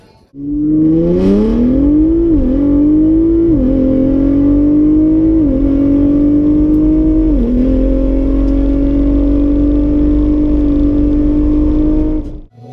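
A car on a private track accelerates hard through the gears. The loud, close engine note climbs steadily and dips briefly at each of several shifts before holding high, with no talk over it.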